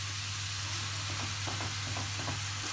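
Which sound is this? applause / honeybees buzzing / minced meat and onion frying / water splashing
minced meat and onion frying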